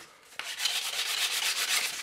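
Sandpaper rubs back and forth over the cut end of a piece of cane for a handmade traditional instrument, a steady close scratchy rasp in quick repeated strokes after a brief knock.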